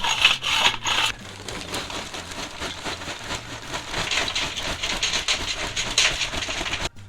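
Ash is raked back and forth through the bottom vents of a charcoal grill, giving a steady, close scraping and rustling rasp that carries on without a break.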